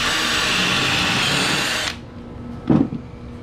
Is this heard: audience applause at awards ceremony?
no